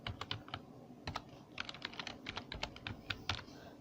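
Quick, crisp keystrokes on a computer keyboard as a web address is typed into a browser, close and clear with short pauses between bursts of taps.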